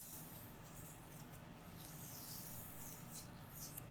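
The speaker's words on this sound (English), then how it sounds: "That's her slime and what it sounds like." Soft, continuous squishing and crackling of slime being handled nearby, quiet and textured with faint wet pops and rustles, no speech over it.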